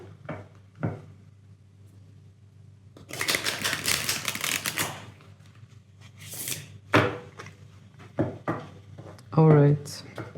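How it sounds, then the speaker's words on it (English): A tarot card deck is reshuffled in bursts of crisp riffling and flicking, with a dense stretch in the middle and shorter card snaps and taps later, fairly close and alone without talk. "I will just reshuffle the deck."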